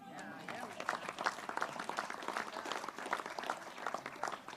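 Crowd clapping during an energy event speech with a governor and a politician, a fairly quiet spread of hand claps with some voices mixed in.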